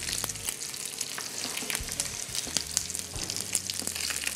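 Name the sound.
wine added to pot of onions sizzling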